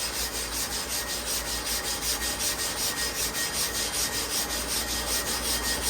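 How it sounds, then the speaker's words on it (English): A large-animal clipper blade is lapped on a grit-coated plate, giving a continuous gritty scraping rub that pulses in steady regular strokes at close range, with no talking. "we're going to do a couple more laps around the plate"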